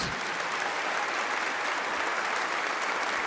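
Sustained applause from a Catholic congregation during a Sunday Mass homily, a dense steady wash of many hands clapping at even loudness, without talk.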